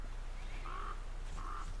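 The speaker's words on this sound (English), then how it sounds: "there's a crow up there." A crow in The Flame in the Flood video game gives two short, faint caws about a second apart over a low, steady ambient background hum, with no talking.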